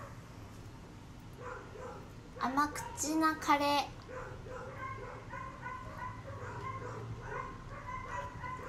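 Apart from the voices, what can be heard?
dog barking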